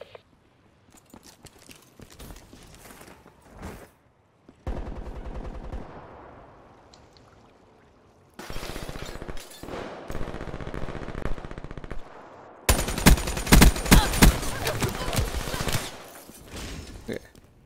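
Rapid automatic gunfire in the video game Black Ops 3, loud bursts in several long stretches separated by quieter gaps, the heaviest and densest volley near the end, with no talk.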